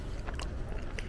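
A crisp bite into a freshly baked taiyaki, a quick close-up crunch with a few small crackles, no talking.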